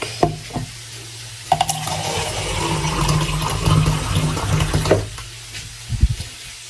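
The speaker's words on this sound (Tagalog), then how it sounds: "Pero maglalagay na tayo ng sabaw kukuha tayo ng kalahating basong tubig." Water poured from a half glass into a pot of simmering squash for pinakbet, a hissing, bubbling sizzle that builds after a few clattering knocks and fades with more clinks of utensils at the end.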